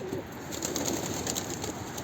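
A soft, low coo from an arriving pigeon, a male, over steady background hiss, brief and fairly faint.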